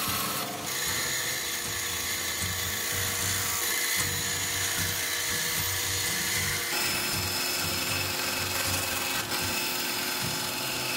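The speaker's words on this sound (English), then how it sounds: "Cut the handle out on the bandsaw." Bandsaw cutting out a sword handle for a cutlass made from an old machete, a dense continuous whine and rasp of the blade, loud and close with no pauses.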